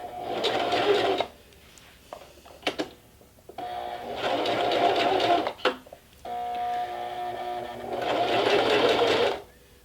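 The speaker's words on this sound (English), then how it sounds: "you can hit that reverse button or pull that lever down again to reverse 2 or 3 steps to lock those stitches into place" A sewing machine stitches a seam in fabric in three long, loud whirring runs separated by short pauses, with clicks as the machine is adjusted between runs.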